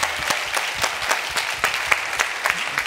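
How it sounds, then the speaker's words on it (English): Audience applause at an urban yoga and science talk event, a steady wash of many hands clapping close and loud, with sharper individual claps standing out, and no voices heard. "So we're gonna clap one more time for them."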